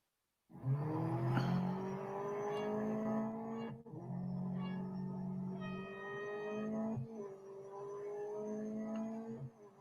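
A race car engine in the Real Racing 3 mobile game revs loudly and steadily, with rising whines through gear shifts and brief dips between them, close and with no talk.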